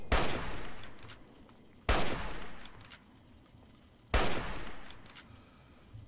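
Gunfire in Fallout 3: three loud, sharp shots spaced about two seconds apart, each followed by a decaying echoing tail, with no talk over them.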